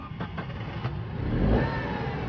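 A 1-litre three-cylinder Vauxhall Corsa engine revs up in a buzzy, eager rise that peaks about two-thirds through, heard at moderate distance with steady road and engine noise throughout.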